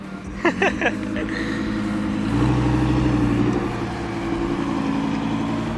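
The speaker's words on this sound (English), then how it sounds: "Check out Steven's beautiful Audi R8. Oh, let's see if he clears this bump." A low-slung supercharged Audi R8 sports car creeps over a bump at a car show, its engine note rising into a deeper rumbling roar midway, with a brief voice near the start.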